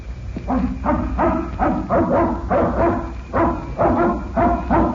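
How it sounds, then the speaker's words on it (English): A dog barks repeatedly in steady bursts, close and loud, with short pauses between rapid volleys. "That must be the dog you told us about."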